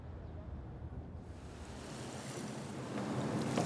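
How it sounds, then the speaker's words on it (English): A ferry departing Hakata port in Japan for Korea: a steady wash of waves and wind noise with a low rumble from the boat, rising slightly toward the end, with no voices. "We're just about to leave Hakata port in Japan for the ferry trip to Korea"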